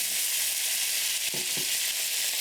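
Steady loud sizzling of green beans frying in a hot pan, a broad hiss with a couple of brief clattering bursts as they settle.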